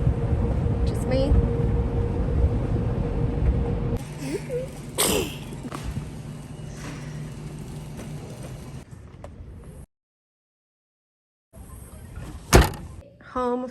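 Inside an automatic car wash, a steady loud rush of spraying water and brushes drums on the car, then lighter swishing and thumps, a sudden silence, and a brief return of rushing water with a knock.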